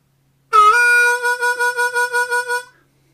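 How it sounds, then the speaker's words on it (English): A single harmonica note scoops up from a pre-bent draw 3, holds briefly, then pulses with about eight even throat-vibrato swells before fading out, close and clear with no talk. "So I scooped up from a pre-bent draw 3, and then I added the throat vibrato."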